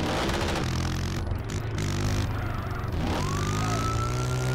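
Police car siren in the GTA San Andreas video game, a rising electronic wail over a steady low car engine rumble during a chase, with no talk.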